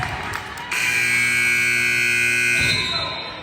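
A basketball game buzzer sounds at halftime in an 8th grade boys game, a loud sustained electronic tone holding for about two seconds before cutting off, with a voice talking faintly at the start.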